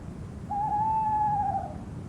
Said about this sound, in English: The man awoke to pitch black and the sound of a nearby owl.